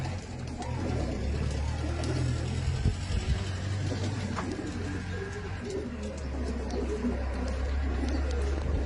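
Pigeons kept at a village house coo in soft, low repeated calls through steady outdoor ambience, with faint mechanical noise and a passing car in the background.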